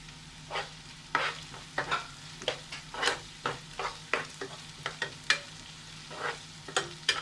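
Sautéing and stirring chilli chicken, restaurant-style Indo-Chinese, in a pan: a steady run of scraping stirs at a loose, regular rhythm over a soft, continuous sizzle, close and fairly quiet.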